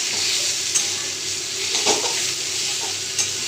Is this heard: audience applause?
no